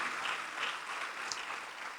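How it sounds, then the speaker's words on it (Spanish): Church congregation clapping during a Spanish-language sermon, a continuous wash of many hands applauding, fairly faint and distant, steady with no talk over it. "Dele palmas al Señor"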